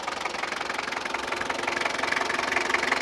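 A 1999 Daihatsu Rocky's DL42 diesel engine runs steadily nearby, a continuous rattling drone with a faint knocking pulse, slightly louder toward the end, with no voices.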